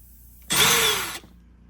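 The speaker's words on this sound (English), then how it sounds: "and I'll drill it out." A power drill bites into a snapped bolt ground flush on a 1987-1993 Mustang during headlight work, a single loud whirring burst of under a second, close, with no talking.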